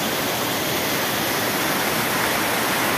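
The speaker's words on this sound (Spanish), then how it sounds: "Estos residuos que van cayendo directamente al río Cañonalejo." Waste water from a tank spills straight into the Cañonalejo river, a loud, constant rushing roar like a small waterfall, dense and unbroken with no voices.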